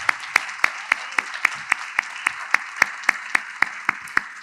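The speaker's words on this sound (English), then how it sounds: "Please join me in a round of applause for our candidates this evening." An audience at a school board of education candidate forum claps in a steady, evenly spaced rhythm, with crisp beats rising above a continuous wash of applause.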